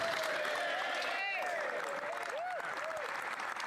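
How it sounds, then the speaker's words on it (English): Applause and crowd noise in Canada's House of Commons during Question Period, with a voice speaking over the clapping throughout. "always gets a big laugh, gets a big applause."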